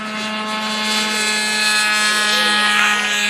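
The SAE Aero Design competition model aircraft takes off from a runway in a crosswind, its propeller engine holding a loud, steady, high buzzing drone close by.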